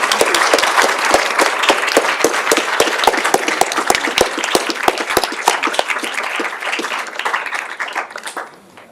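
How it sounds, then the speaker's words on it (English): An audience claps steadily for several seconds at the end of a lecture, a dense, loud patter of many hands that fades out near the end. "So I think we can end with a round of applause."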